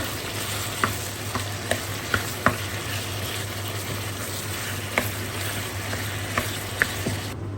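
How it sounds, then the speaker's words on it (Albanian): Chunks of meat frying in hot oil at the start of a goulash, a steady loud sizzle with a low hum beneath and occasional sharp pops and spatters throughout. "Pasi që vaji është nxehur, e morrim e qesim mishin s'pari."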